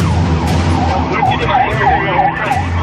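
A fire engine races to a fire call with its siren wailing in loud, repeated rising-falling sweeps over steady engine and road rumble heard from inside the moving truck.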